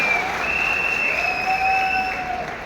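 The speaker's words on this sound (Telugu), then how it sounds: "నిద్ర వచ్చేవాళ్ళు గట్టిగా చప్పట్లు కొడదామా?" An audience claps at a talk, with dense, steady applause filling the room throughout and a faint tonal whine running under it.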